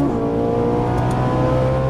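A Ferrari 458 Italia V8 under throttle, a loud, close, steady high-pitched engine wail with strong harmonic tone holding for a couple of seconds without talk.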